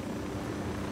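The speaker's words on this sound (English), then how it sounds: "I'm going to park the helicopter right over here" Helicopter in Ghost Recon Wildlands hovering low to land, a steady, dense rotor and engine roar, fairly loud and continuous with no talk.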